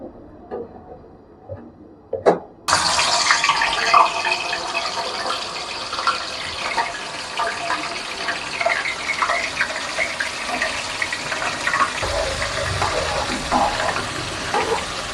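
Whole spices with garlic-ginger paste hit hot oil in a pan for a chicken and chickpea curry, bursting into a loud, steady sizzle after a few quiet clinks and staying dense and continuous to the end.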